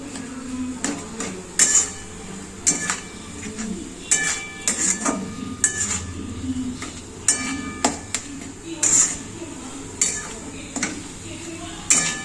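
A jaggery batter for patishapta pitha mixed in a bowl, with repeated clinking and scraping strokes of a utensil against the bowl at an uneven rhythm, fairly close and clear.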